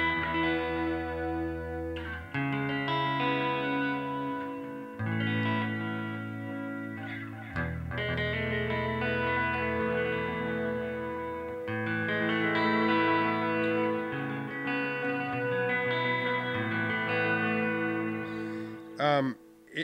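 Electric guitar played through a Boss DD-20 Giga Delay pedal in tape mode, emulating a space echo: chords and notes ring on with repeating echoes in several sustained phrases, loud and close, ending in a quick fluttering swell.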